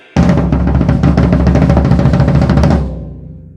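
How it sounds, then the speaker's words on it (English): A fast, sustained floor tom roll on the 14-inch tom of a drum kit, a loud, boomy rumble of rapid strokes lasting about two and a half seconds before ringing out and fading. "The first part of the intro is a floor tom roll, and it's like this."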